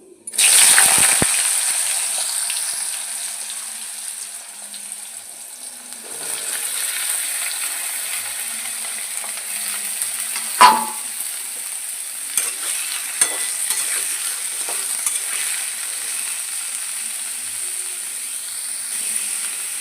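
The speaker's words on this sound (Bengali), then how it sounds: "তেল গরম হয়ে গেছে সামান্য একটু হিং দিয়ে দেবো সামান্য একটু কালো জিরে এবার আলুগুলো দিয়ে দেবো" Potatoes fry in hot oil seasoned with asafoetida and nigella seeds, a steady bright sizzle running throughout with occasional clinks and a sharp splash of stirring midway, no talking.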